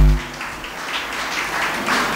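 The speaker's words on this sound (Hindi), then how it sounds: "भाई तालियों से इस्तकबाल कीजिए।" Audience applause welcoming an honoree, a firefighter, at an achievement ceremony: steady scattered clapping from a nearby crowd, starting after a brief low thump and continuing throughout.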